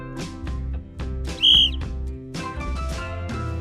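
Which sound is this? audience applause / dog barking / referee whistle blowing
referee whistle blowing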